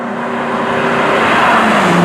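A Ford GT's engine roars as the accelerator is pressed. It makes a loud, sustained drone with a steady pitch and a slight swell in intensity, and no talking is heard over it.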